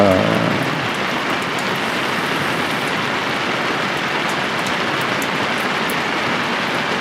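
Steady rain falls outdoors as a dense, even hiss of drops on surfaces, loud and constant throughout, with no talk.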